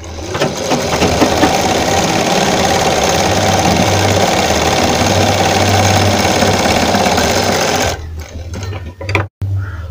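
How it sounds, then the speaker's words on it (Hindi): A sewing machine runs steadily and loudly, stitching a frill onto a sleeve for about eight seconds before it stops, with a few faint handling sounds after. "फ्रिल लगाने के बाद में हम इसके ऊपर लगा लेंगे एक सिलाई।"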